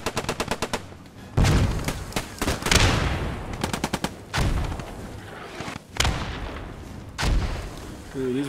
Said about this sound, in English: No, those are friendly mortars.